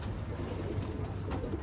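Pigeons coo softly and continuously in a loft in Baghdad, a low rolling murmur throughout with no talk.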